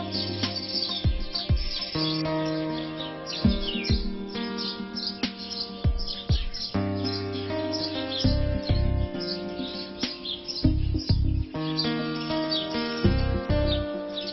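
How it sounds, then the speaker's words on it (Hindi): House sparrows chirp in quick, repeated high tweets scattered over a low, sustained tonal background, with no voices. "गौरैया की ये चहचहाहट"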